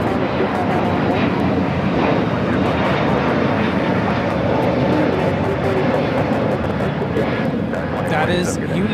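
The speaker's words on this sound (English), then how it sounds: "That is United Airlines 2487 taking off to Chicago on a brand new A321neo." A United Airlines Airbus A321neo jet takes off at LAX, its broadband engine roar rising and sustained throughout, with people talking over it at the spotting site.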